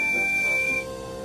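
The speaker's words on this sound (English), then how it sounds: "They were bumping freight cars and blowing their whistles." A single sustained, high steam-style train engine whistle blows steadily for under a second over a soft hissy background, then cuts off and leaves a faint hiss.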